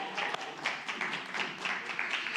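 An audience at a spiritual talk claps together in a soft, steady patter of many hands that continues throughout. The clapping is fairly quiet and sounds slightly distant, with no talking over it.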